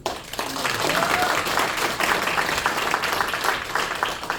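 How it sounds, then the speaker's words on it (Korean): Steady applause from a crowd, continuous clapping throughout with faint voices mixed in. "우리 박수 한번 다시 한번"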